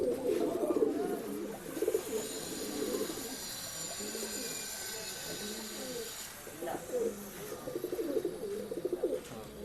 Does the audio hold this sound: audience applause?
no